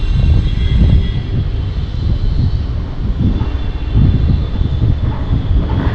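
Strong outdoor wind roars steadily throughout, a loud broadband rumble with gusts rising and falling and no talking.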